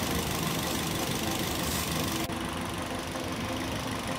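A Toyota Yaris engine idles roughly with a misfiring ignition coil, giving a steady, close, continuous rumbling drone with no pauses and no talking.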